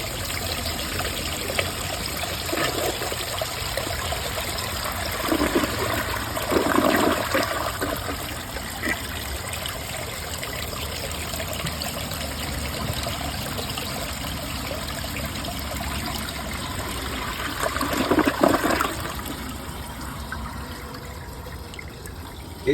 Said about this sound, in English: I'm going to give it a flush.